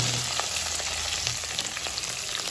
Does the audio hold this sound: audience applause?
no